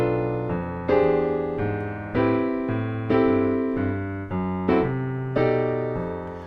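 Piano played with both hands, mixing Latin and swing feels: a steady run of chords and bass notes struck roughly every half second to second, close and clear, with no one talking.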